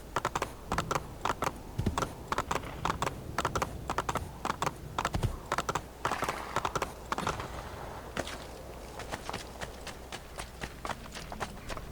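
Horse hooves clip-clop steadily at a brisk pace in the Assassin's Creed 2 video game, a rapid rhythmic clatter that continues through most of the stretch, close and even in volume.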